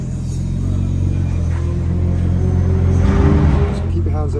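A McLaren Artura's engine at Silverstone circuit gives a steady, deep droning rumble heard from close by, swelling slightly toward the end, with voices mixed in.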